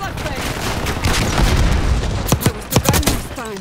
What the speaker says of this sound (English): I picked up the sniper rifle